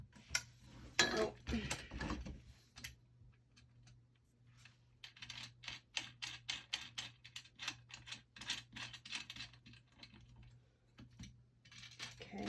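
Screws are tightened during assembly of a painted fairy cross stitch stand, heard as quiet, close clicking and ratcheting taps in irregular bursts over a faint steady hum, with no talking.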